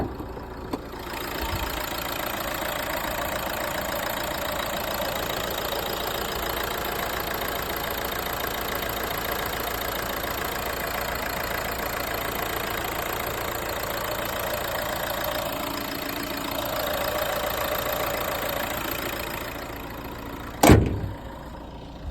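A Renault Megane engine runs at a steady idle close to the microphone, a smooth, even hum held for about twenty seconds, ending with a sharp click or knock near the end.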